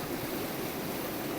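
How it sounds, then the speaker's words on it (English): Steady rushing river water close by near waterfalls, a continuous broadband wash with no breaks or voices. "Listen to that water lapping, it's gorgeous."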